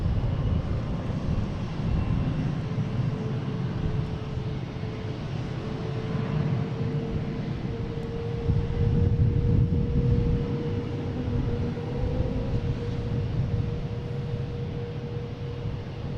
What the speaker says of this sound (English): Next taking off American Airlines, the LAX, the A321neo.